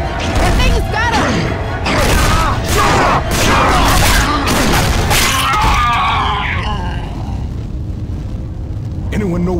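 A Charger zombie from Left 4 Dead 2 bellows in a loud, rough roar over crashes and a rumbling, chaotic game scene, which then fades into quieter groans and shouting voices.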